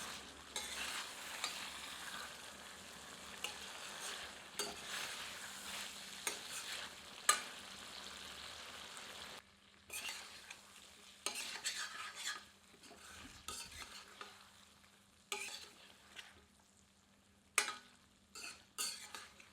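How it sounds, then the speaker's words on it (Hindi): Okra mutton curry frying over medium heat, with a low sizzle broken by repeated stirring scrapes and spoon clinks against the pot, a brief pause midway, close and quiet with no talk. "मध्यम आंच पर इसे 2 से 3 मिनट भूनते हैं।"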